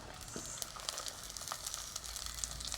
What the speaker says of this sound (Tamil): இப்போ வந்து சூடாகிட்டு நல்லெண்ணெய் நாங்கள் வந்து கொஞ்சமாக வெந்தயம், அதோடு வந்து நாங்கள் வெங்காயம் அளவாக போட்டுக்கொள்வோம்.